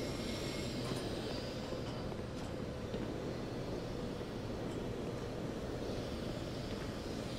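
A train in the video game Black Mesa gives a steady, dense rumbling roar that holds evenly throughout at moderate loudness with no voices.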